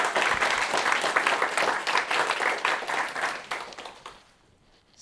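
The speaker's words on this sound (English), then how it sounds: "so please give her another round of applause." A room full of people at a report launch event claps steadily for several seconds, dense applause that thins and fades out toward the end.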